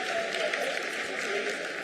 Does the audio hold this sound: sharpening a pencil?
no